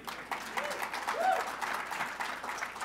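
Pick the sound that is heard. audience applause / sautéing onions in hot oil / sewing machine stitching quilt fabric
audience applause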